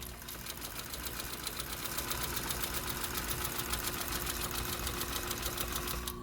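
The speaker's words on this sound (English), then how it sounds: "then we sew this pretty much freehand, and it comes out straight" A sewing machine runs steadily, stitching leather edging freehand for a rolled edge, its rapid mechanical chatter continuous and close with no voices.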